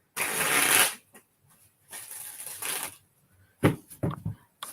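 Tarot cards are shuffled up close for a reading in a live session. Papery riffles and rustles come in several uneven bursts, some longer and some clipped, with short pauses and soft taps in between.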